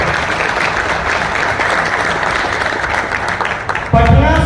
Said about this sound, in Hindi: मेरा जो सीनियर था दीपक सिंह जी के लिए एक बार तालियां हो जाए